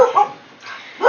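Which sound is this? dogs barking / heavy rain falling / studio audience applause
dogs barking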